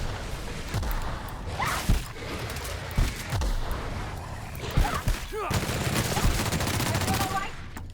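Heavy gunfire from a gun in the video game The Outer Worlds, with rapid continuous bursts, booming impacts and whooshing effects, loud and dense throughout with occasional sharper blasts standing out.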